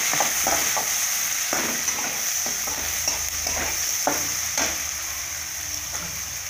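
Onion, curry leaves and green chillies sizzling in hot oil for coconut rice, a steady loud frying hiss with repeated spoon scrapes and stirring knocks against the pan.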